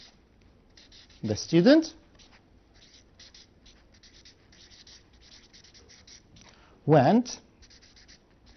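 Pen or pencil scratches across paper in two short bursts of writing, separated by quiet, with a voice speaking briefly alongside.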